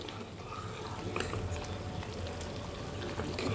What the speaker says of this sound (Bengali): আমার তেলটা আমাকে একভাবেই ফোটাতে হচ্ছে